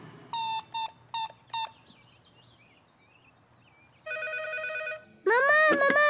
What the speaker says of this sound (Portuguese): eu telefonei-te e o telefone tocou